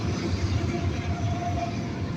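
A train rolls past very close to the tracks, giving a loud, steady, heavy rumble with a faint metallic clatter and a thin squeal running under it.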